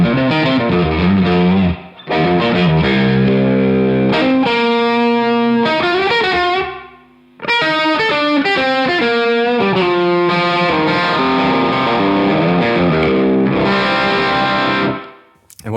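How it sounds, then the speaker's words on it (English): Distorted electric guitar plays chugging rhythm chords with a short, roomy reverb tail, pausing briefly twice before continuing loud and sustained. "it's giving me like a very short reverb tank kind of vibe"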